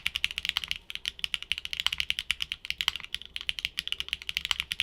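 Clacky mechanical keyboard with Shanghai switches being typed on, a steady run of close, crisp keystrokes with sharp clacks, with no voice over it.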